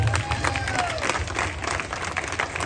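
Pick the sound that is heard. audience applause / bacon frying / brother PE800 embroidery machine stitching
audience applause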